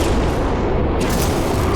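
A grenade detonates in No Man's Sky, a loud, dense blast rumbling continuously and loud from start to finish.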